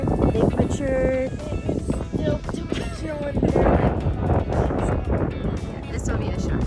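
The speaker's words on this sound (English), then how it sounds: "So it's a little windy today, but it's pretty nice." Wind gusts across a hiking trail in Badlands National Park on a mild day, a steady loud roar and buffeting that runs through the whole stretch, with brief voices mixed in beneath it.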